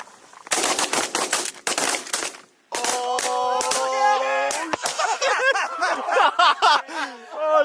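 Shotgun volleys fired at geese on an early-season Washington goose hunt with a large group of hunters: a rapid cluster of loud, close blasts, then excited shouting and laughter with more scattered shots mixed in.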